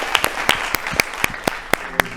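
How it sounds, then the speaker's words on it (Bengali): Short round of applause for a farmer producer team from Jhargram at a televised farming quiz show, sharp claps spaced in a loose, steady rhythm over a roomy background. "একটা জোরে হাততালি হয়ে যায় তাদের জন্য"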